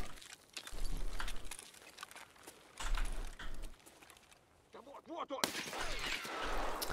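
Gunfire in the video game Escape from Tarkov, loud bursts of shots with low thumps and sharp cracks spread across several seconds, mixed with in-game movement and background noise.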